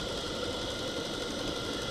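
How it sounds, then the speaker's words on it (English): A model live-steam engine, a Monahan Heron in a steam launch, starting up from cold: a steady mechanical hum and hiss with a fine rapid chugging texture, close and continuous with no talk. "And slowly start the engine."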